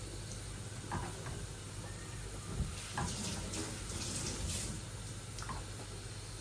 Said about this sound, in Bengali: এখন আমি ঢেলে দেব ডালের মধ্যে।